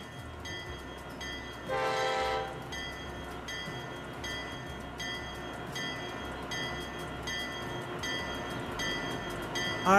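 A commuter train in the Transport Fever 2 video game rolls along with a steady mechanical rumble and rhythmic clatter, and a bright horn blast sounds briefly near the start.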